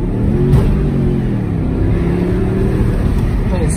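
A 2007 Jaguar XK's V8 engine drones steadily and close, pulling strong with a sustained rumble that builds slightly as it accelerates, with no talking over it.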